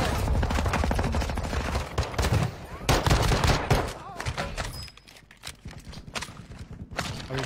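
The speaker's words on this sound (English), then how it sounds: "And now I'm getting shot out of the air with the pistol" Rapid pistol and gunfire bursts crackle through a video game firefight, dense and loud at first and then thinning out, with a player's voice talking over parts of the action.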